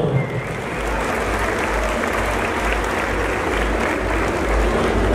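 A rodeo crowd at Rancho El Aguaje breaks into loud, sustained applause for the Jalisco mascot Mini Pollo, a dense wash of clapping that holds steady throughout with a low rumble underneath.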